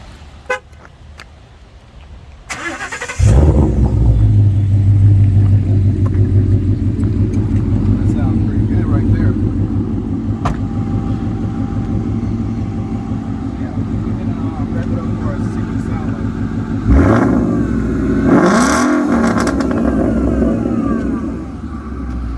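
Ford Mustang GT 5.0 with a modified muffler starting up and holding a loud, rumbling rev for several seconds, then a second surge of throttle near the end, with people talking nearby.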